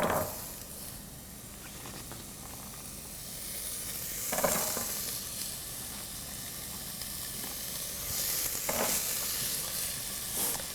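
Butternut squash frying in oil with garlic, a steady sizzle with periodic swells as it is stirred, fairly close and without talk.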